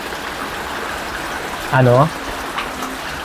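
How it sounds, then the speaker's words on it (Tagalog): Heavy rain falls steadily as a broad, constant wash during the rainy season, with someone speaking briefly over it partway through. "Grabe pong ano ng ulan."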